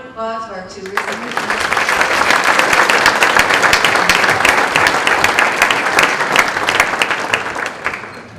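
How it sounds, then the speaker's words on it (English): A large evening audience applauds two scholarship recipients, loud dense clapping that bursts in after a brief moment of talk and holds steady to the end, with a few voices beneath. "have one more round of applause for our two recipients"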